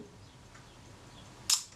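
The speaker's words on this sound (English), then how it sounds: "So I press the shutter release gently" A single crisp mechanical click of a Kodak Retina IIIC film camera shutter sounds near the end, close and sharp after near silence.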